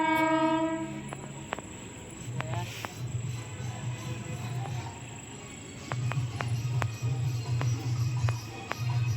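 Train rolling along a railway track, opening with a fading horn, then steady low rumble and rhythmic wheel clacks at moderate distance, with faint voices in the background.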